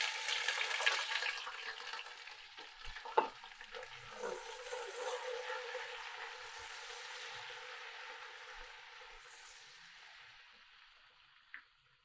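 Boiled beef sizzles and fries in a pan with onions and whole spices, a steady crackling hiss that is loudest early on, with a few stirring knocks and clatters, then slowly quietens.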